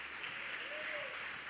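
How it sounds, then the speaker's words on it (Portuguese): A church congregation applauding during a sermon, producing a dense, continuous wash of clapping at a fairly soft, distant level across the brief moment. "Quem crê nisso, aplauda do Senhor, queridos."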